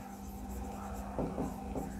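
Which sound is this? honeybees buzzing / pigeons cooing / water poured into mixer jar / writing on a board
writing on a board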